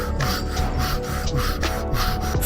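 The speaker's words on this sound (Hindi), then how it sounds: "फिर ऊपर से तेज सांसों की आवाज आने लगती है।" Fast, heavy breathing used as a horror-story sound effect: loud, raspy, rhythmic inhales and exhales repeating steadily throughout, with no talking.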